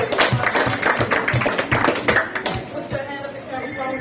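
Busy, rapid clapping from many hands, close and lively, with cheering and chatter underneath, from primary school children.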